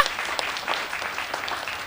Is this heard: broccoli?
no